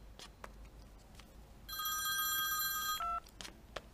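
Telephone ringing with a bright electronic warble for about a second and a half, clear and close, then a brief lower tone as it cuts off, amid quiet room noise.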